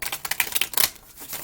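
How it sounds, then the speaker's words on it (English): A tarot card deck is shuffled up close, a quick run of crisp riffling flicks in an uneven rhythm that tapers off into quiet. "I'll do another shuffle here."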